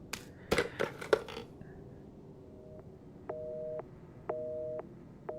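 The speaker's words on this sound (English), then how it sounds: "let's check this phone out" Phone line in the Resident Evil 7 demo video game: a few clicks and knocks as the receiver is handled, then a repeating busy signal, three evenly spaced tones, clear and fairly near.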